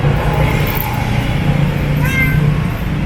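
A cat meows once near the end, a short rising cry over a constant loud low hum and broadband background noise; there is no talking.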